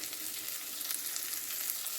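Spices, a little tomato and salt fry in a pan for a dense, steady sizzle that holds close and even throughout, with faint stirring scrapes and no voices.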